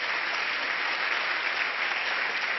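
A seminar audience claps together in a steady, even wash of applause that fills the room without pause.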